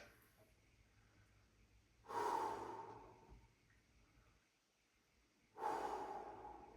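Slow, deep breathing during a dance stretching routine, with two soft, airy exhales about three seconds apart, each fading out gradually in a quiet room.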